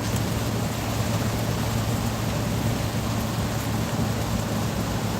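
Steady rain pours outside a vehicle on a delivery route, a dense, even hiss that holds at the same level from start to end with a low rumble underneath and no voices.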